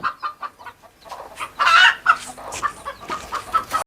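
Farm chickens cluck busily while pecking at feed, a close, steady patter of short clucks rising into a louder squawking burst midway.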